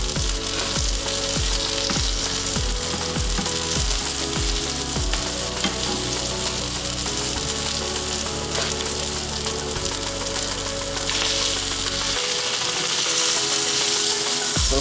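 Birria queso tacos fry in a hot pan with a loud, steady sizzle that runs unbroken throughout, close up and uninterrupted by any voice.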